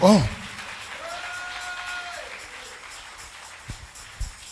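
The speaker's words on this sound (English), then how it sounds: "you can clap your hands" A church congregation claps along during a prophet's worship service, a faint, steady patter of hands running under a sustained tone and a voice.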